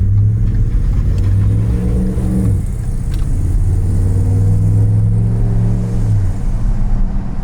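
A pickup truck engine roars loudly and close, revving up hard with rising pitch as it accelerates, dropping briefly as it shifts, then climbing again.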